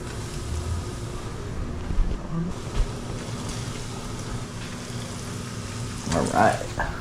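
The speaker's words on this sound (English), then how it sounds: "And then we'll put them in the frying pan." Battered chicken of the woods mushrooms frying in a pan, a steady low sizzle and crackle with a few bumps and clatter near the end.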